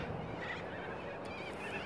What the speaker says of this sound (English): We got the spoon-billed ibis birds here.